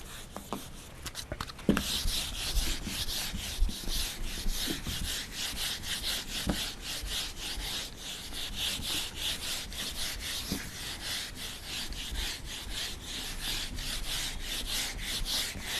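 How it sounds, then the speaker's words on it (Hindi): Writing being rubbed off a classroom board during a trigonometry lesson, a steady rhythmic back-and-forth scrubbing that continues close and fairly loud with no talk over it. "अब इसको रब कर रहा हूँ मैं सबको।"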